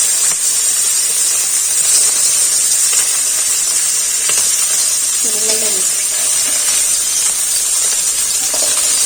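Hot oil sizzles loudly and steadily in a pan, a bright, hissing frying noise held close throughout, with a voice speaking briefly in the middle.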